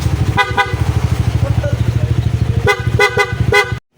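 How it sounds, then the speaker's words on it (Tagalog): A Yamaha NMAX motorcycle's loud aftermarket horn blasts in repeated short honks over a steadily running engine, loud and close, ending abruptly. "ito sa kanyang loud horn na with passing light"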